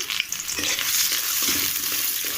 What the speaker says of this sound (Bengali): তেলটা অনেক গরম হয়ে গিয়েছে, তো পেঁয়াজ দিয়ে দিলাম।